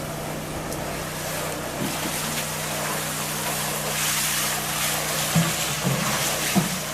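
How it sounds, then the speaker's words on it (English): A water truck approaches a backyard plunge pool build site, its engine a steady low rumble that grows slowly under broad outdoor noise, with a few faint knocks and no talking. "And I hear the water truck coming."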